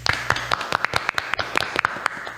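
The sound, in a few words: clapping to open the show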